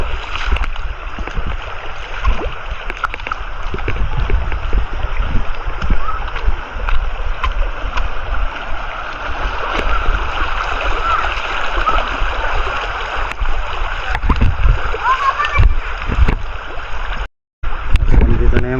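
Water babbles and gurgles in a stream in the Philippines, with scattered splashes and faint children's voices in the background.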